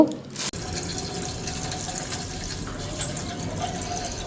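Water pours steadily from a tap into a pot for cooking vermicelli, a continuous close splashing flow that begins after a brief clatter.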